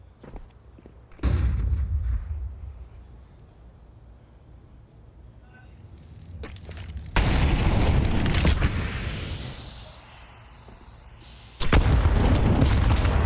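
Two grenade blasts in a Counter-Strike professional match, each arriving as a sudden loud boom that rolls off slowly, the second followed by a third heavy burst, with quieter footsteps and game sounds between them.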